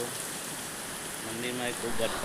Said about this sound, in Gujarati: આજે વરસાદ ચાલુ છે